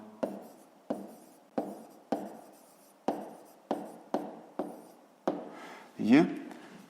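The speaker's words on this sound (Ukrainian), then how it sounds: "Записуємо відповідь." Pen writing an answer on paper in a fifth-grade maths exercise, heard as a run of quiet, regular taps and scratches, about one per second. A voice speaks briefly at the end.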